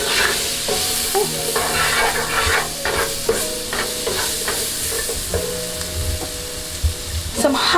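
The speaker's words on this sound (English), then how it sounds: "let's stir it up a bit." Coconut curry potatoes stirred and frying in a pan, a loud continuous sizzle with a spatula scraping and knocking through it, close and steady without talk.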